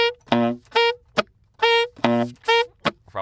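Beatboxed saxophone imitation holding a static two-part harmony on C, a voice mimicking sax tones in short phrases broken by sharp percussive clicks and hits, close and clear with no talking.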